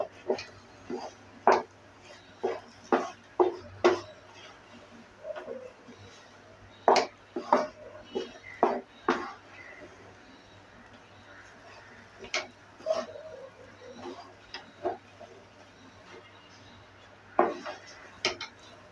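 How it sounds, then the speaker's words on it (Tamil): A spoon stirs a thick coconut and Bengal gram filling with ghee in a pan, giving repeated close metallic clinks and scrapes in uneven bursts over a quiet background. "நெய் ஊற்றி கொஞ்சம் கிண்டி விட்டுக்கலாம்."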